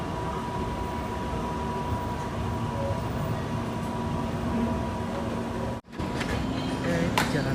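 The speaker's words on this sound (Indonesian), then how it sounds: "Nah ini dia KRL seri Tokyo" A Tokyo-series KRL Commuterline electric train, set 8618/8518, runs toward Jakarta Kota station, heard from inside as a steady, loud rolling rumble with a faint whine and a brief sharp cutout near the end.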